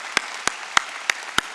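Five sharp, evenly spaced claps ring out at a church Wednesday worship service, loud and close, each a single crisp hit with no talk.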